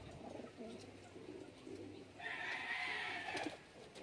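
Pigeons cooing in a loft in Del Gallego, Camarines Sur, soft low coos over a faint background, with a brighter chirping burst near the end, moderately distant and quiet.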